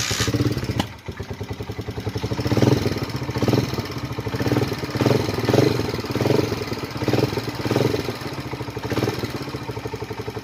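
A motorcycle engine idles close by with a steady, rapid, putting beat and light mechanical clatter, swelling gently in loudness at regular intervals, with no speech over it.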